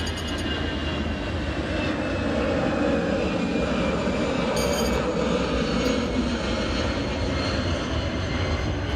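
Airplane passing overhead in Chiang Mai, a steady broadband engine roar that holds loud and even from start to finish with no talk.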